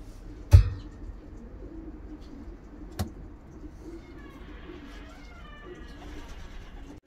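Pigeon cooing, soft murmuring calls from racing pigeons in a loft, fairly quiet over steady low background noise, with a couple of sharp knocks near the start and middle.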